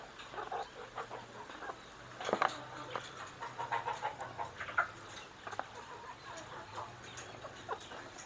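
Free-range village chickens kept in a galvanized battery cage cluck softly and intermittently while being fed a protein snack, with occasional sharper metallic taps and clucks close by.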